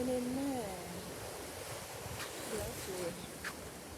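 Ocean waves roll in at a beach as a steady, soft wash of surf under light wind, while a person speaks faintly and a bird calls briefly.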